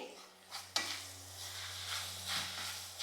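Shegal vegetable sautéed and stirred in a pan for a Krishna Janmashtami offering, a faint, soft sizzle with a few light scraping strokes over a low steady hum.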